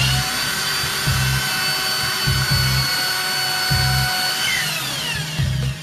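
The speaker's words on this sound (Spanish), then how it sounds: "¿Tiene el taladro ahí?" A power drill whirs steadily at an airport inspection, a continuous high motor whine with repeated low pulsing surges as it bites in.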